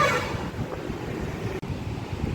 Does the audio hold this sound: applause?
no